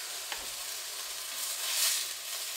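Hamburger steaks sizzle in a frying pan with a soft, even hiss, a small clink early on, and a brief louder swell of sizzle near the end.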